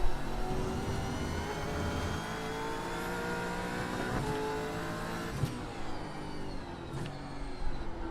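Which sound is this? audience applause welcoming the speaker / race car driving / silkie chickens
race car driving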